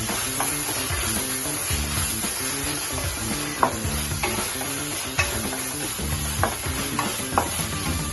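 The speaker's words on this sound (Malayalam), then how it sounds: "ഇനി നമുക്ക് ഇതിനകത്ത് ഇഞ്ചി വെളുത്തുള്ളി പേസ്റ്റ് നമ്മൾ ഇടുകയാണ്" Ginger garlic paste sautéing with onions in a pan, a close, steady sizzle under rhythmic spatula stirring with occasional sharper clinks.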